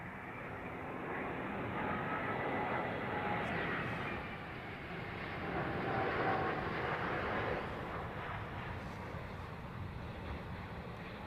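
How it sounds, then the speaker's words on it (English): A brand-new Turkish Airlines Airbus A350 jet at London Heathrow Airport, a broad steady engine roar that swells and eases over several seconds, heard from a distance outdoors. "Brand new Turkish 350."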